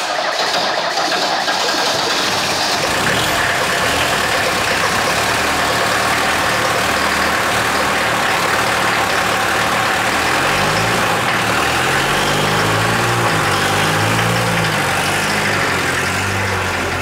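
Mercedes Strich 8 car engine idling, a steady low rumble that runs unbroken and close, with a lumpy throb that grows stronger toward the end.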